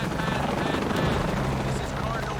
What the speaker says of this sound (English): I got to follow the helicopter.